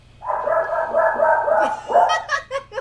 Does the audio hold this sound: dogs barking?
yes